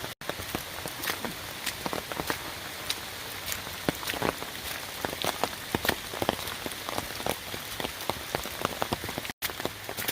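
Rain falls steadily on the Company Mill Trail in Umstead State Park, Raleigh, North Carolina, a constant close patter with sharp individual drops striking leaves and ground throughout, with no voices.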